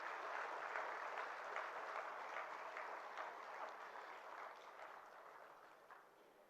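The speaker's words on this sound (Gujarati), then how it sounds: "આપણે તાળીઓથી વધાવીએ એમને મંચ પર." An audience at a 2018 poetry award ceremony applauds to welcome poets to the stage, a steady, dense patter of clapping from a crowd heard at some distance that fades slightly toward the end.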